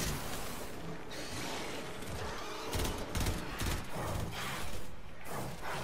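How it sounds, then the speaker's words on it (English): Rapid bursts of enemy gunfire in the sci-fi video game Warframe, dense and continuous with louder volleys partway through, mixed with game effects and no talk. "Cover me, they're shooting at me!"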